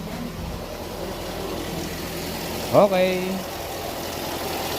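A 2003 Toyota Vios, its rat-chewed wiring repaired, idles with a steady low engine drone throughout, while someone briefly speaks over it partway through.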